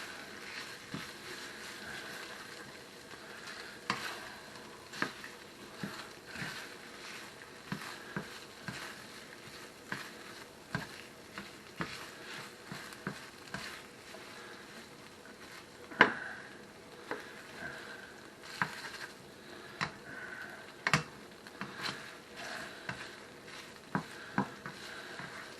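Softened cream cheese melts in a pan while a utensil stirs it, giving a faint low simmer broken by scattered light scrapes and taps.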